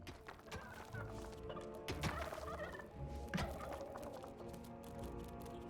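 Gobbler creatures gobble in the dungeon-management video game Dungeons III, their turkey-like warbling calls layered in a steady busy game soundscape of moderate volume, with no speech.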